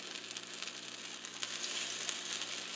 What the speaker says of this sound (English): So can you hear the sizzle?